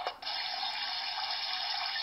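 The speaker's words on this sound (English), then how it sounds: "This is more like a higher flow of rain." Steady, dense rush of heavy rain from a children's sleep-trainer alarm clock, a continuous broadband hiss with no pauses, moderately loud and even throughout.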